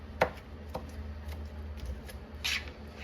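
A knife knocks against a cutting board a few times at an irregular pace while chopping tomatoes, close and moderately loud over a low background hum.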